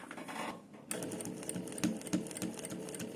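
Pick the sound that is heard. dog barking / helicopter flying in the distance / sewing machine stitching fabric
sewing machine stitching fabric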